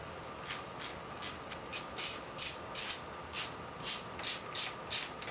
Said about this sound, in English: take out these 4 intake bolts